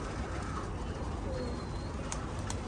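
Soft pigeon coos drift in from a distance over a steady hiss of background noise, with a couple of brief sharp clicks near the end.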